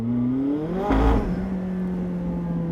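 A McLaren 675LT with its top down, on Trophy R tires in cold weather, revs hard with a rising, steady engine tone and a brief loud surge, as if straining for grip.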